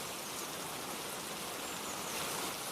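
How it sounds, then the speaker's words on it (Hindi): Heavy rain in a cartoon, a dense, steady hiss of downpour that stays even and loud throughout with no other sounds. "हे भगवान, कितनी जोरदार बारिश हो रही है।"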